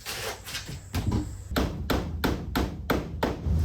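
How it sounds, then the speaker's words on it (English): A hammer taps a stuck drill bit in a workshop, about seven sharp, evenly spaced strikes in a row, close and loud. "Here's the hammer."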